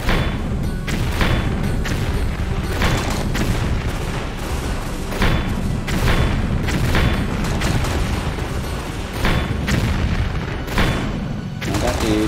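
Rocket explosions in Tomb Raider 3 set in the South Pacific, with repeated heavy booms and gunfire-like bursts hammering at an uneven rhythm, loud and close throughout.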